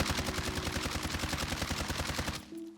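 A sustained burst of rapid automatic rifle fire in Warzone, evenly spaced shots in a fast, steady rhythm for over two seconds, close and loud, then stopping.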